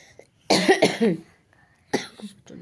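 A child coughs twice up close, a harsh burst of two quick coughs followed after a pause by a single shorter one, with faint throat sounds in between.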